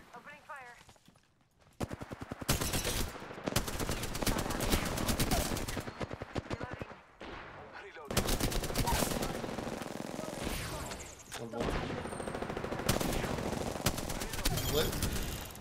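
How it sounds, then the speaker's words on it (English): Bangalore's gunfire in Apex Legends: loud, dense bursts of rapid automatic shots that start after a quiet opening, pause briefly, then resume in long rattling volleys. "I'm taking fire. Opening fire."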